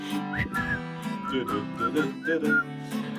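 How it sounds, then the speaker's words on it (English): A person whistles a jaunty tune of short rising and falling notes, close and clear, with faint background accompaniment beneath. "Just purse your lips and whistle, that's the thing."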